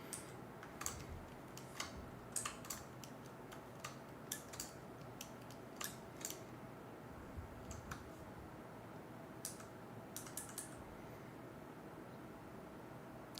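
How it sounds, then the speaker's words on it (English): Typing on a computer keyboard at a desk, scattered sharp clicks in uneven bursts over a faint steady background hiss, close and fairly quiet with no voices. "can you hear my keyboard?"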